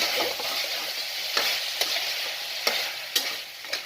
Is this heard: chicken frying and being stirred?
yes